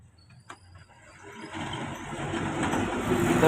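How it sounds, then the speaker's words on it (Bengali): An electric water pump motor, just freed from a fan jam, switches on with a single click and then spins up into a rising whirring hum that grows steadily louder, with no talking. "আমি এবার মোটরটাকে চালিয়ে দেখছি দেখুন মোটরটা এবার চলতে লাগবে"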